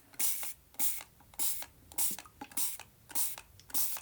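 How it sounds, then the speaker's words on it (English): A spray bottle hisses water in short bursts, about seven quick spritzes at a steady rhythm, close and crisp with quiet gaps between. "let's spray and see if something is going to happen"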